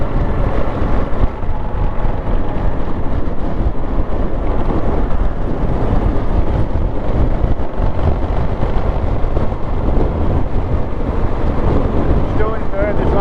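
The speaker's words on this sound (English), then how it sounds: "Oh, that wind!" Strong wind roars and buffets continuously across the microphone while riding a corrugated dirt track downhill, a loud dense rush layered over low vehicle rumble.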